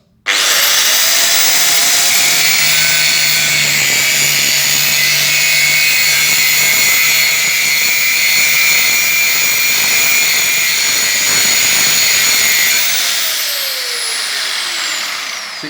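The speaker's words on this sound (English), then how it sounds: "I'll start the grinder up, and all I'm going to do is bring it down at 15 degrees, little grind across the face of the material." An angle grinder held at a shallow angle grinds back and forth across the face of mill-scaled steel, giving a loud, steady high whine that runs for nearly the whole stretch before spinning down near the end.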